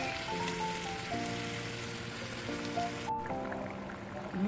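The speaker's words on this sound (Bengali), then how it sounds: "ঝোলটা ভালো ফুটে উঠেছে" Poppy-seed egg curry gravy with potatoes boils steadily in a pot, a dense, continuous bubbling hiss that runs throughout, with tonal music playing underneath.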